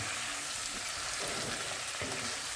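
Prawns in buttered garlic stirred in a hot pan, giving a steady, dense, close sizzle with soft stirring shifts throughout and no voices.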